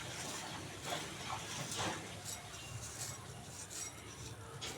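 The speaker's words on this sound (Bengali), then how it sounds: "তো এগুলো আমি সব খুব ভালো করে মাখিয়ে নেব।" Onion kachori filling is mixed with spices and flattened rice, making soft, irregular rubbing and squishing sounds close by, with quiet scraping strokes and no talk.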